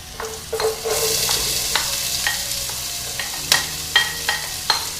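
Chopped onion sautéing in hot olive oil in a stockpot over medium heat, a steady close sizzle broken by several sharp scraping stirs of a utensil against the pot.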